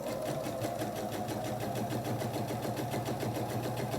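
A sewing machine stitching a quarter-inch seam on a quilt block, a close, steady, fast mechanical whir running evenly throughout.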